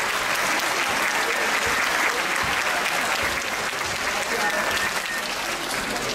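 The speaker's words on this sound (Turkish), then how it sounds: "O yüzden onları canı gönülden alkışlıyoruz" An audience at a year-end music and piano performance by a public education centre in Şile applauds loudly and continuously, a dense steady clapping with a faint crowd murmur underneath.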